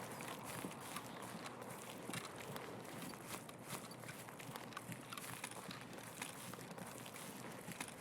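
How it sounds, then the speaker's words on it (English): Footsteps in Escape From Tarkov move through a factory area as a steady, soft walking rhythm across the whole stretch, set against a constant ambient hiss and low rumble, with no talking. "focus in on your own footsteps"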